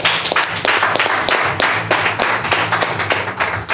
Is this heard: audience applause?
yes